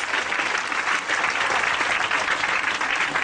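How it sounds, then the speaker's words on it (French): A church congregation applauds loudly and steadily, dense clapping filling the whole stretch with no voices over it. "Acclamons fortement la parole du Seigneur."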